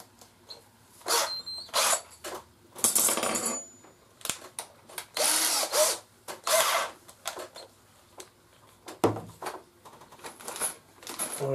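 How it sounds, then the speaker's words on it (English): A power drill fitted with a bit whirs through wood in a Katsu portable pocket hole jig in repeated short bursts, with clicks and clatters between runs as the drilling stops and starts. "So I'm going to swap my drill bits over."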